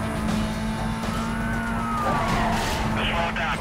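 Police cars give chase in the racing game Need for Speed Most Wanted: a constant roar of engines and screeching tire skids, loud and unbroken, with a voice faintly underneath.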